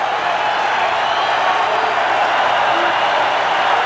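Steady, dense roar of a stadium crowd cheering at a 1990 Michigan at Wisconsin college football game, loud and continuous throughout with no clear breaks.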